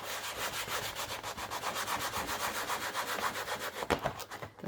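Cricut cutting mat being wiped lightly with a baby wipe, a close, steady rubbing and scrubbing rhythm of quick back-and-forth strokes that turns more irregular near the end.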